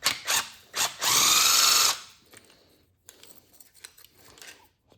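Power tool spinning a bolt off an engine wiring harness on a 2013 Ford Taurus SHO during an engine swap: a few short bursts, then one sustained run of about a second, close and loud, followed by quieter handling noises.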